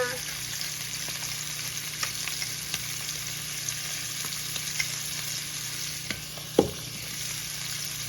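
Scallops fry in a pan with a steady, moderate sizzle throughout, broken by faint clicks and one sharp knock, with no talking.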